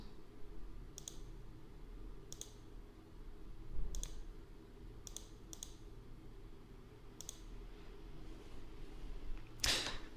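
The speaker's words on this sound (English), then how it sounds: "can be selected by clicking on the calendar icon to the side" Sharp, quiet mouse clicks sound at irregular intervals in software, about seven in ten seconds, while selecting a calendar icon, over a low steady room hum, with a brighter click burst near the end.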